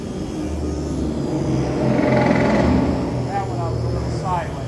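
Blade mCPX BL2 RC helicopter hovering and spinning, a steady whirring drone that holds at even loudness throughout, swelling slightly midway.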